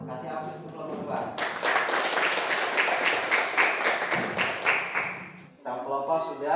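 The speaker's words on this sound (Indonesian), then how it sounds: "Kasih aplaus untuk kelompok 2." A classroom of students bursts into applause for group 2, a dense run of clapping lasting several seconds between stretches of talking.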